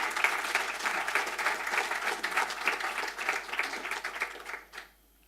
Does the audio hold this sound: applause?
yes